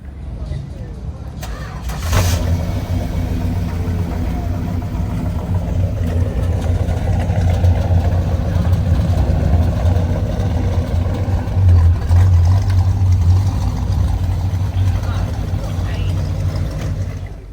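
A Mopar Chrysler C-body GT with a 440 four-barrel V8 rated at 350 horsepower starts at a Chrysler Nationals car show, then settles into a steady, loud, rumbling idle.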